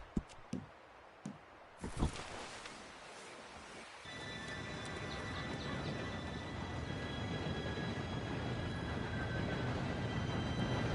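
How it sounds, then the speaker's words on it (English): A train approaching in Red Dead Redemption 2, a few faint knocks giving way to a steady rising rumble with high metallic whine, growing louder and sustained. "Train should be here any minute now."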